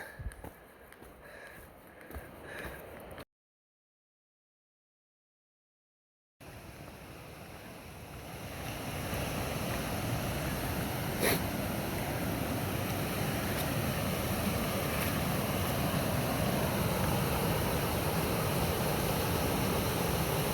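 A waterfall on the Appalachian Trail gives a steady broadband rush of falling water that grows louder and fuller partway through, after a brief gap of silence, with no voices.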